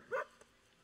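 Angry wolf pup in the Planet Zoo video game, giving a single short, faint bark followed by a tiny second yip in an otherwise quiet moment.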